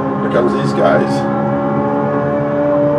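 A race car in the video game Assetto Corsa passes by, its steady engine drone holding a sustained tone with a brief rise as it goes past, while a voice talks over it.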